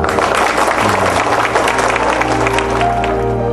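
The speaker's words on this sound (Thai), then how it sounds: "ปรบมือให้กับนักเรียนทั้งสามคน" Classroom audience clapping for three students, a lively, dense burst of hands clapping at close range that carries on evenly, with a low steady hum beneath.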